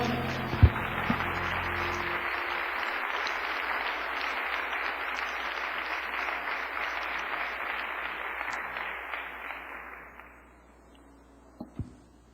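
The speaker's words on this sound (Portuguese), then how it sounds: "Vamos dar um aplauso" A church congregation applauding, a broad steady wash of many hands clapping that holds for about ten seconds, then fades out, leaving a few faint knocks near the end.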